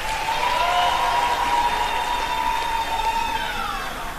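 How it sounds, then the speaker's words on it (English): Graduates at a Limkokwing University Lesotho ceremony applaud, a steady wash of clapping sounding somewhat distant, with a sustained tonal hum running underneath. "Please give yourself a rousing round of applause."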